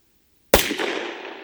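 Single Glock 29 pistol shot with 10mm ammunition, a sharp, loud crack out of silence followed by a decaying outdoor echo tail.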